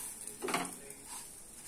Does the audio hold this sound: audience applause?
no